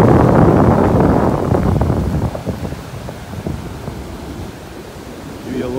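Steady wind roars across a beach in North Naples, Florida, heavy at first and easing a little, with surf rumbling beneath it and no talking.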